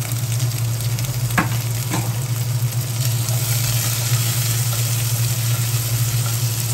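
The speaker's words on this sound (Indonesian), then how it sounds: "Saya tumis sampai harum ya." Spice paste sautéed with crushed lemongrass and lime leaves for rawon, a loud, continuous close sizzle of frying with a couple of brief utensil knocks against the pan.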